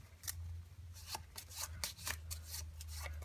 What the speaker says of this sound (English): just shuffle like I'm doing